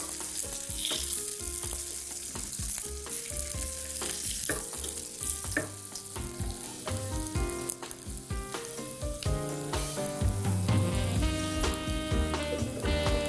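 Leek and sesame topping sizzling and frying in a pan, a steady, loud, crackling hiss with stirring throughout, and no talking.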